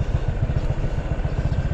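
A motorcycle engine idles close by with a steady, rapid low thumping pulse and some mechanical clatter, running alone with no talk.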